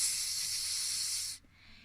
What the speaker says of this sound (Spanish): Ese sonido lo hemos escuchado cuando nuestra mamá pone una olla que se llama olla a presión